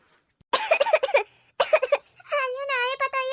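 A voice actor playing an old man in an Awadhi cartoon comedy imitates harsh coughing in two rapid clusters of hacking bursts, followed by a strained, wavering groan.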